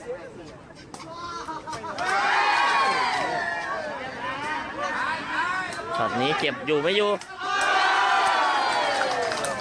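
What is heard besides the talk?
cheering crowd at a sepak takraw match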